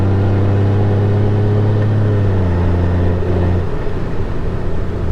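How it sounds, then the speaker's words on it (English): A 2023 Honda Gold Wing motorcycle on the road, its engine drone stepping down in pitch as the transmission shifts down, then settling into a rougher, lower rumble with wind noise. "The transmission, you can hear it, watch it, we'll downshift"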